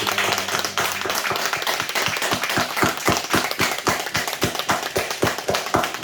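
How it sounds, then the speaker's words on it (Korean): A congregation claps in unison to welcome the new year at a New Year's Eve to New Year's Day church service, with fast, steady rhythmic claps of many hands, loud and even, continuing throughout. "박수로 2023년을 환영하겠습니다."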